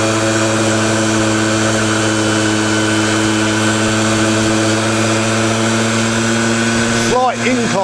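A 1980 Honda Express vintage two-stroke moped engine revs high and steady while riding uphill, a loud, close, buzzing drone with a brief dip near the end.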